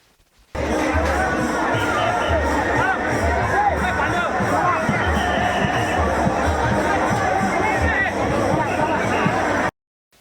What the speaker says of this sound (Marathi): शेगाव येथे भक्तांनी श्रींच्या पालखींचे स्वागत करण्यासाठी मोठी गर्दी केली होती